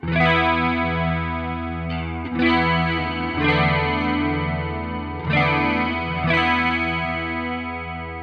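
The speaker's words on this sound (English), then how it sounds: "We've got a couple of clean snapshots, including this one that has that nice chorus." Electric guitar chords ring out with a shimmering chorus effect, strummed several times with sustained, wavering tones and no talking.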